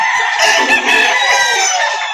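A rooster crows loudly and close by at a busy poultry market in Lipa City, Batangas, one long drawn-out crow with clucking mixed in.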